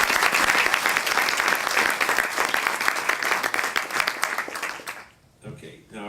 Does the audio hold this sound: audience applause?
yes